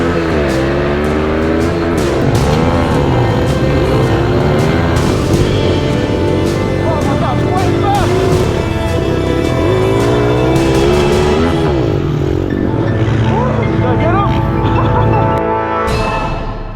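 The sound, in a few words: pit bike engine running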